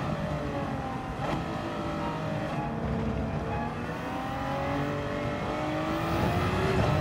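A hybrid all-wheel-drive turbocharged car in Gran Turismo 7 drives with a steady engine drone whose pitch rises and falls with the revs, holding the same loudness throughout.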